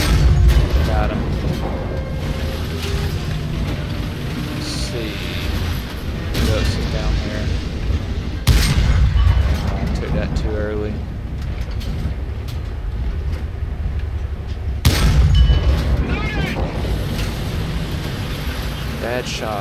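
Tank cannon fire in War Thunder, with several heavy booming shots at irregular intervals over a constant rumbling engine and battle bed, while someone talks throughout.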